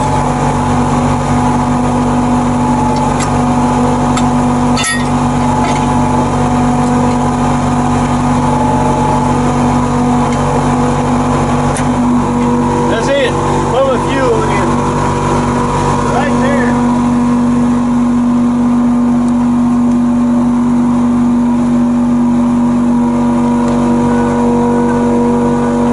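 A Tigercat 630E skidder's engine runs steadily at a loud, close idle with a sustained hum and tonal drone, briefly changing pitch midway, with speech mixed in.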